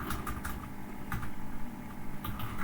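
Rapid, uneven keystrokes on a computer keyboard as C++ code is typed, close and clear, with short pauses between clusters of clicks and no talking.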